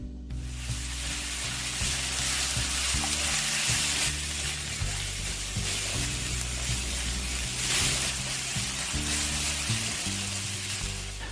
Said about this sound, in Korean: 고춧가루와 물을 섞어 전체적으로 붉은색이 돌 때까지 볶아주세요.